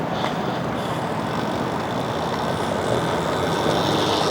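An EBOX Dragster electric mini bike motor runs under gentle throttle, giving a steady whine over a broad rushing noise that stays close and constant throughout.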